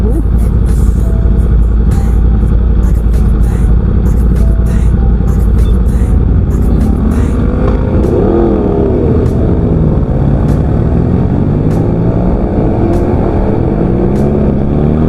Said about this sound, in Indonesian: BMW ternyata itu ya. Kenceng banget men.